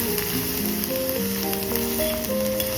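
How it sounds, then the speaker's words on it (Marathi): Onion sautéing in a pan hisses loudly and evenly throughout, with faint tonal background sounds over the continuous sizzle. "दोन मिनटं मी कांदा परतून घेतलाय"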